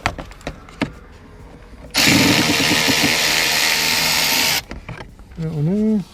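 A cordless ratchet spins out heater core housing bolts on a Fox-body Ford Mustang, making one loud, close whirring burst of about two and a half seconds. A shorter rising whine follows near the end, amid quieter shop clatter.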